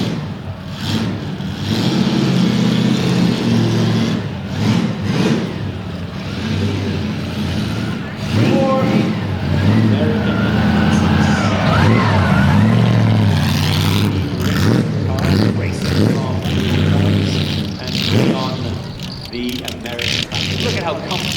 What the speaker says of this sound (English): Listen to that 8-cylinder engine.